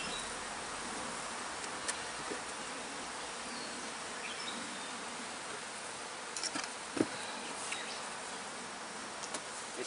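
Honey bees buzz around an open hive in a steady, dense drone, close and continuous, with a few faint clicks and knocks from the hive work.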